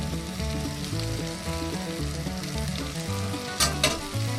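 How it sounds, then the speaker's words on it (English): Sausages sizzle steadily in a pan over heat at an outdoor camp breakfast, a dense continuous frying hiss close by, with a couple of brief sharper crackles near the end. "Well, this side over here is getting pretty close to being done. Probably use a little more heat on the sausages."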